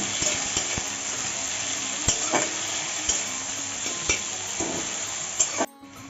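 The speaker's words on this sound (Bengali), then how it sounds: "এখন টমেটো কুচিটা দিয়ে দেবো একটু ভেজে নেব" Chopped tomato frying in a pan over onions already browned, for a Bengali rohu fish-head curry; a continuous hiss of sizzling runs throughout, with occasional sharp clinks and scrapes of a utensil stirring against the pan.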